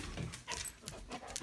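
A dog pants rapidly and whimpers, with breathy bursts and thin whines running the whole time, close and fairly quiet, while a second dog that gets jealous is kept warm in sweater weather.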